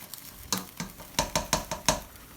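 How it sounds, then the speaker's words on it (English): Food sizzling in a pan while being stirred, with a series of sharp utensil scrapes and clatters against the pan in a quick rhythm, close and fairly loud. "Fry that off for a couple of minutes. Get it all mixed together, all the flavours coming together."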